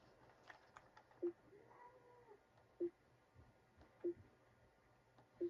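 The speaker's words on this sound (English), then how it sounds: "Sorry guys if you hear meowing." Quiet room tone with a few short, faint meow-like calls spaced apart, one soft drawn-out cry in the middle.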